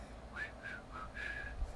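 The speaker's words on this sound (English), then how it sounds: "My whistling's gotten pretty good." A person whistles outward through slightly dry lips, producing a few faint, wavering notes in a short, uneven phrase against a quiet background hiss.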